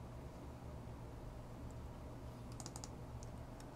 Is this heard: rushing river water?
no